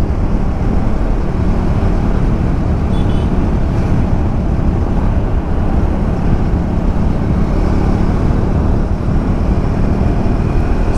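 A car cruising along the NH66 highway between Kashedi Ghat and Chiplun, a loud steady rumble of engine, road and wind noise without a break.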